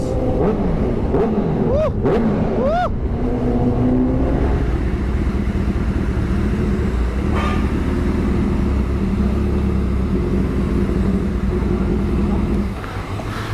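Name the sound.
Honda CBR1000RR motorcycle revving with Resfit aftermarket exhaust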